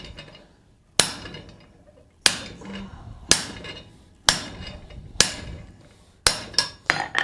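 A power hammer forges a gothic door knocker, striking in sharp, loud, separate blows about once a second, with a quick cluster of hits at the end and ringing decay between strikes.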